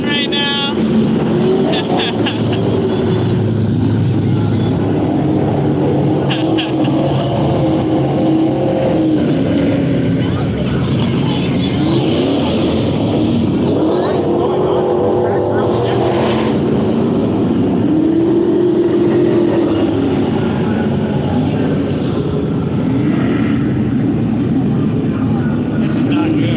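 Super trucks run practice laps at Vado Speedway Park, a steady loud roar of racing engines rising and falling as they circle the dirt oval, with people talking over it throughout.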